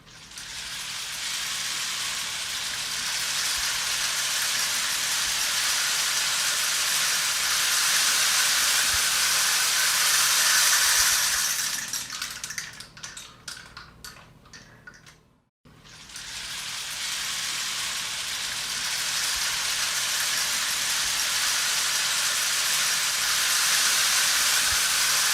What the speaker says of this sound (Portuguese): Esse instrumento aqui é fantástico. O nome dele é pau de chuva.